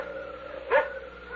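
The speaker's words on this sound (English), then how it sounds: "That barking dog." A single dog bark sounds out briefly at moderate distance over a low steady background hum, as a sound effect in a 1975 radio mystery drama.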